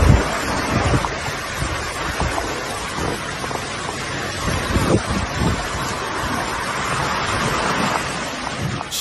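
Stormy sea during Cyclone Harry in Sicily, with violent waves crashing and hurricane-force wind roaring against the microphone in a constant loud, dense rush with no voices.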